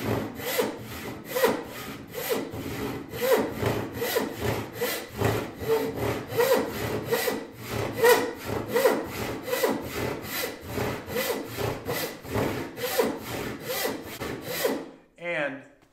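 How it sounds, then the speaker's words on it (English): A hand saw cuts walnut wood for an axe wedge in steady, rhythmic rasping strokes, close and clear, about two strokes per second, ending abruptly with a brief rustle. "I'm just letting this saw do the work."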